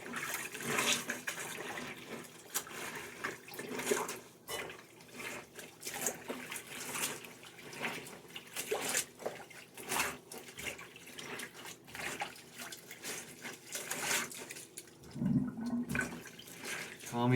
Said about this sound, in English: I'll rinse it, or I'll drain it, and then I usually do two rinses.